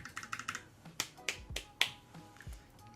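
Sharp, separate clacks from typing on a Streak65 LP low-profile keyboard with PVT keycaps. About a dozen crisp keystrokes fall in an uneven rhythm, close and fairly quiet, with no talking.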